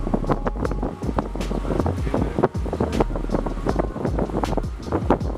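Wind gusts across a backyard guppy pond on a hot day, producing a steady, rumbling buffet against the microphone with constant low roar and flutter throughout.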